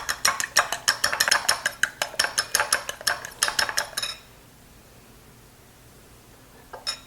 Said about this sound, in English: Take a fork, break it up, whisk it up really good.